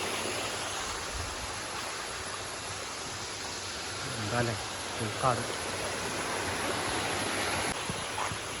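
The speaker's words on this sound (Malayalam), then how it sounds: "വെള്ളം അങ്ങനെ പോകുന്നുണ്ട്." Water flows steadily through the stream at Olichi waterfalls in Erumapetty, Thrissur, a constant broadband rush filling the clip, with a voice speaking briefly partway through.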